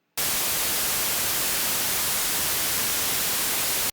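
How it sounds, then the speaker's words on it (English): White noise from a synth patch's noise block, a loud, flat, continuous hiss that cuts in suddenly and holds at constant level for nearly four seconds before stopping. "if I take the noise block and I plug it into the output, we will hear the noise in our headphones"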